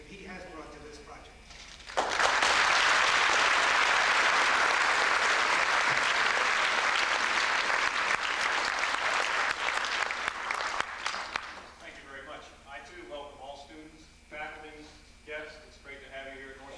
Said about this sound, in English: Scoot Diamond richly deserves a round of applause to thank him for all of the effort and expertise that he has brought to this project